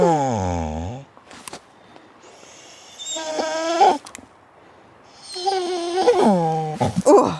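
A dog growls and grumbles in playful bursts while tugging on a toy, its rough, whiny vocal rumbles rising and falling in short spells separated by quiet pauses.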